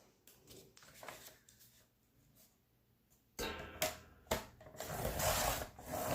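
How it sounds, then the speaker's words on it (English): Pages of a vintage Garden of Verses book being cut: quiet scattered scraping and rustling at first, then louder, rougher bursts of cutting and paper friction in the second half. "I'm just going to cut probably one at a time to make sure I get through"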